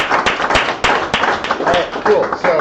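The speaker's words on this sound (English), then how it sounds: "one more big round of applause for all of our various speakers" Applause and clapping from a crowd at a tech guild meetup, rounding off the evening's talks; a steady burst of many hands clapping close by, with scattered voices and cheers mixed in.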